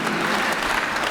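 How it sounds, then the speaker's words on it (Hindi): Audience at a yoga and Ayurveda gathering clapping loudly and steadily, a dense burst of applause from a large crowd filling the moment. "चलो भाई जोरदार ताली बजा दो इसके।"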